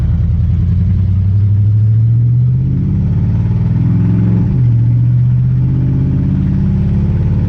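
A 1980 Chevy C10 pickup with a 700R4 automatic transmission runs loud and close, its engine droning steadily, then dipping briefly as the gearbox makes a firm upshift before the revs climb again.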